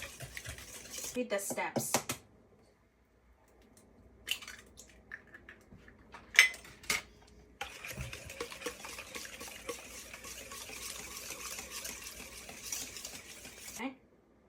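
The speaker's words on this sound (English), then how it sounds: "whisk it into it until combined" Brownie batter is whisked in a bowl, a steady run of fast rhythmic scraping and tapping after scattered clinks and a pause, fairly close but soft, with a brief spoken phrase near the start.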